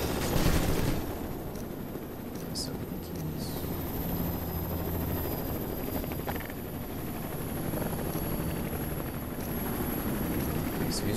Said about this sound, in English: you got the helicopter flying around